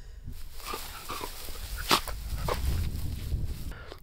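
A dog barks and yips excitedly on a mountain hike, giving a few sharp close barks, one louder burst near the middle, over steady outdoor wind and footstep noise.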